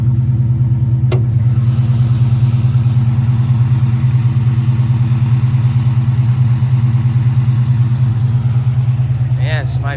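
A 2010 Chrysler 300C V8 with a stage 2 Comp cam, long-tube JBA headers and a Legmaker intake idles loud and close after a cold start, with a steady, lumpy rumble throughout.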